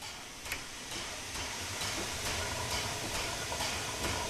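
The Flying Scotsman steam locomotive pulls away in Train Sim World 4, with a continuous loud steam hiss and a faint rhythmic ticking that paces the start.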